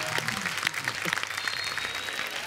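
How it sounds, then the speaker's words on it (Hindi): A studio audience at a comedy talk show gives steady, lively applause for guests Huma and Saqib, a full crowd clapping continuously at a fairly soft level with scattered voices underneath. "एक बार जोरदार तालियां हुमा और साकिब के लिए"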